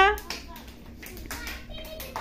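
Several children clap together in a short burst at an Anganwadi preschool, a few quick irregular claps mixed with small-voice chatter in a noisy classroom.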